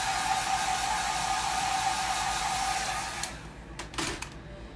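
A hair dryer blows steady, loud airy noise over a painted figure for about three seconds, then shuts off, leaving a few faint handling knocks close by.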